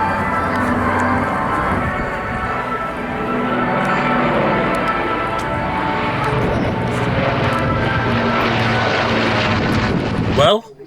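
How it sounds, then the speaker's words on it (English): An Avro Lancaster bomber flies overhead at a wartime event, its propeller engines giving a loud, sustained droning roar that holds steady for several seconds before cutting off abruptly. "The sight and sound of the Lancaster Bomber dominating the sky."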